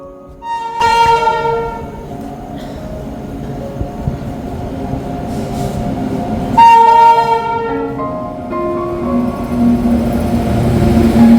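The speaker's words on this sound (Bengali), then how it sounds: "চলো আমাদের ট্রেন ঢুকে গেছে" A train pulls into a station platform on a morning trip toward Kolkata, sounding two loud, long horn blasts over the steady rumble and clatter of the approaching cars.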